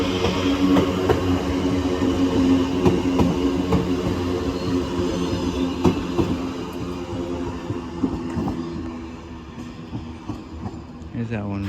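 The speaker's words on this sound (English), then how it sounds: "There's a district line service to Richmond comes in behind me." District line train to Richmond pulling into Barking station, a continuous rumbling roll with squealing and rising tones as it moves nearby, under a voice.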